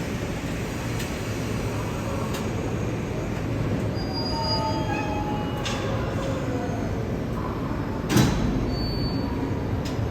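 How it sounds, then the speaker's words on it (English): Train shunting in Zurich station: a locomotive moving a train's rear section onto the buffers, with steady rolling rumble, faint wheel squeals and a few sharp metallic clanks, heard at moderate distance without talk. "a little bit of shunting going on."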